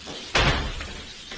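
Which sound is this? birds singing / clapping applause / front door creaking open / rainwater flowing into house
front door creaking open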